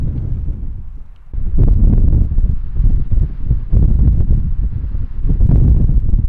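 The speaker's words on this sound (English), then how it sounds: "it's getting windy too, so it's really cold" Loud wind rumbles and buffets the microphone on a mountain hike, quieter at first, then gusting hard and steadily for the rest of the clip.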